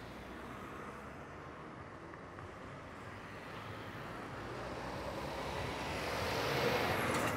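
A camera drone flying above the HS2 Delta Junction construction site near Birmingham, a continuous airborne whir blended with distant traffic and site rumble, steady and gradually growing slightly louder over several seconds.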